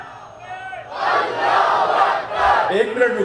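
A large crowd roars a takbir slogan in unison at a religious gathering, a loud massed chant rising after a lone leading voice, with a second swell of shouting.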